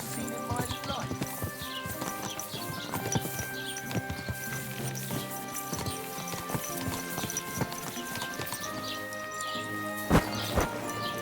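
In the video game Kingdom Come: Deliverance II, a horse's hooves clip-clop in a steady walking rhythm throughout, close and clear over background game music and ambience.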